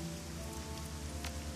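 Steady rain falling on neon-lit city streets in the video game Shadowrun: Hong Kong, a continuous hiss with a low hum beneath.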